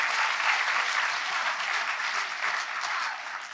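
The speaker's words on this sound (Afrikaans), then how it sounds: "So kom ons gee vir Sonel Verskalk, vir die ATKV mense wat hier is, regtig uit ons hart uit 'n lekker hande klap." An audience at the ATKV-Kultuurkuier 2025 cultural gathering claps warmly. The applause is dense and sustained throughout, with no voices over it.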